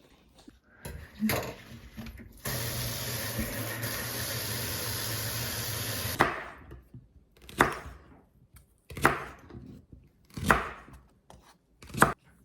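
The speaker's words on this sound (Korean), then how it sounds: "얇게 썰어볼까?" A knife chops vegetables on a cutting board while making kimbap: a few crisp, close chops, a stretch of steady background noise, then four evenly spaced solo chops about every second and a half.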